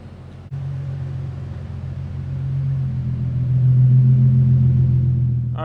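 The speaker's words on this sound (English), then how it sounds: "Right now, we're going to go ahead and pull this car in." A car with a VR30 engine rolls into a shop with a steady low engine rumble that swells slightly as it pulls in, close and continuous with no talking.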